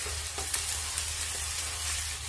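Chicken fried with spice paste in a pan for a chicken stew, a steady, soft sizzle with a few faint clicks of the spoon.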